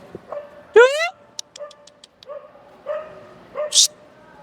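A stray dog in Saudi Arabia barks and yips a few times nearby, with short clicking taps between the barks and a faint voice in the background.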